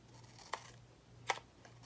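Scissors cutting paper for a scrapbooking mini album, two crisp snips about three-quarters of a second apart and a fainter third, close and quiet over a low hum.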